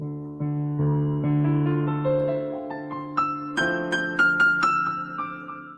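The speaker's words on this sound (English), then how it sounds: "if I have my keyboard here and I think of, let's say, a sound like this." A keyboard plays a slow, rising sequence of sustained tones, notes layering into chords that climb higher, each struck note clear and resonant with no talk.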